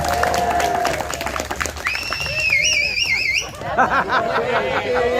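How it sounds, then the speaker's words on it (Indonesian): Audience applause and light cheering at a lively political talk session, mixed with crowd chatter, laughter and some overlapping voices over about five seconds. "tepuk tangan buat pertanyaannya"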